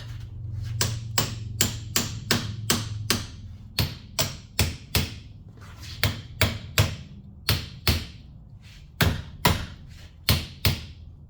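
A hammer strikes a Bravura trumpet clamped in a vise, delivering about twenty sharp metallic blows in irregular clusters, some quick pairs and others spaced apart, each ringing briefly. The strikes are loud and close, with no talking.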